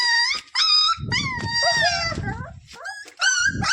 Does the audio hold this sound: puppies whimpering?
yes